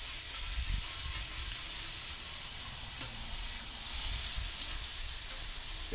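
Bacon and onions frying together in a pan give a dense, continuous sizzle and hiss with occasional soft stirring scrapes, close by and steady, with no speech.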